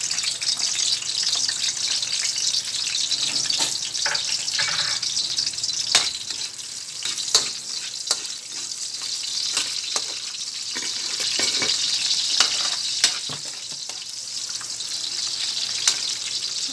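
Onions dropped into hot frying oil for sinantomas, a loud continuous sizzle with scattered spoon scrapes and clicks throughout, close up and without talk.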